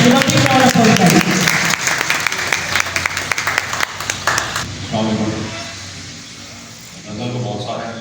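Loud, dense applause from a seminar audience welcoming the speaker at a self-development event, sustained for several seconds and then thinning out as a voice begins speaking over it.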